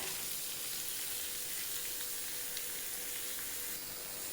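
Chickpeas fry under a lid for chana masala, giving a steady, even sizzle and hiss that fills the whole stretch without pause, with no talking.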